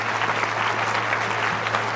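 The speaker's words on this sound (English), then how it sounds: "Let's give Gloria Steinem one more round of applause." Audience applause at a University of Idaho Women's Center 40th anniversary celebration honoring Gloria Steinem: dense, steady clapping from a large crowd in a hall, sustained evenly throughout with a low hum beneath.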